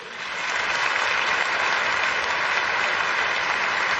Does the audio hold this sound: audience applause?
yes